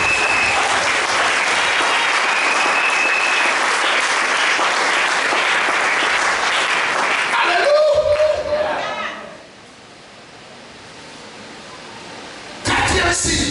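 Congregation at a French-language church service applauding and cheering loudly for Jesus, a sustained dense wash of clapping that fades to quiet murmur before a brief resurgence.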